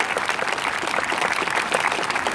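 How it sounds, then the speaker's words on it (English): An elementary school crowd at a veterans' celebration claps for volunteers, a loud, busy patter of many hands filling the whole stretch without a pause. "I could give them a round of applause."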